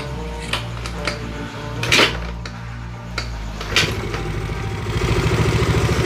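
A Mio scooter engine fitted with a PE28 carburetor is kick-started and sputters into life, with clanks and knocks before settling into a low, rough idle; it bogs and will not rev.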